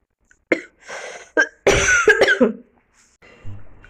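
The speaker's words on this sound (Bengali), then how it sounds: "আপনাদের সাথে কথা বলতে বলতে কাশি এসে যাচ্ছে" A woman coughs several times at close range, short harsh bursts with a longer rough cough in the middle, outdoors at a school sports competition ground, with quiet gaps between and no speech.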